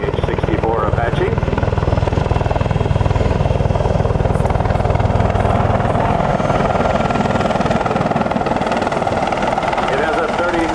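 An AH-64 Apache attack helicopter flies at a military air show with a steady, continuous rotor thrum and engine roar, while a public-address announcer talks over it throughout.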